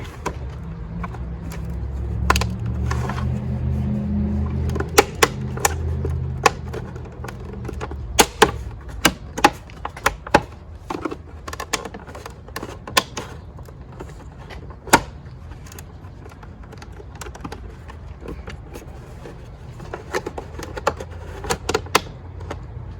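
Plastic trim panel clips on a car are pried loose while fitting a YotaVerse sequential turn signal, giving a string of sharp close snaps and clicks, some spaced and some in quick bursts, over a low rumble early on.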